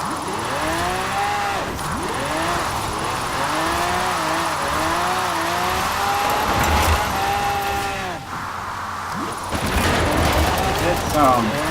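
A Quartz Regalia Type-D with a rally and AWD drift tune in Forza Horizon 4 revs hard and loud, its engine pitch climbing and dropping through repeated gear changes, with a brief lull before it surges again.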